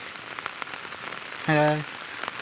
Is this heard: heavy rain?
yes